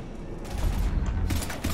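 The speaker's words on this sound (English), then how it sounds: "we're taking heavy fire" Rapid bursts of gunfire from a firefight with Husks in Mass Effect, dense overlapping shots over a low rumbling bed, close and loud.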